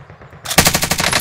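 Rapid automatic gunfire in the online shooter game Warzone, a loud close burst of fast, evenly spaced shots starting abruptly after a brief quieter moment.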